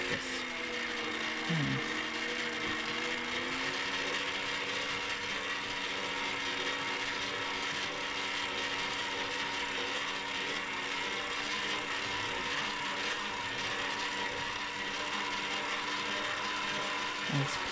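Stand mixer with a whisk attachment mixing cheesecake batter: a steady mechanical whir with a faint ratcheting tone, running continuously at moderate volume with a brief wobble in pitch near the start.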